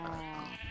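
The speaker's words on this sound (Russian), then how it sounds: "Коровы, отойдите." Cattle in a video game give a short, faint, low bellowing moo lasting under a second, set against a quiet game background.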